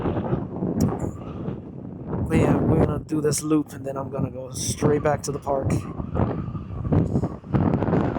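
Strong outdoor wind buffets a DJI Osmo Action 3 with a Hollyland Lark M2 wireless lavalier mic on a cold walking loop around a park, rumbling low and unsteady beneath a person talking throughout.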